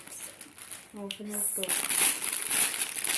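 A plastic bag crinkles as a headband is slipped inside, a brief rustle that turns into louder, sustained crackling after a short voice passes through.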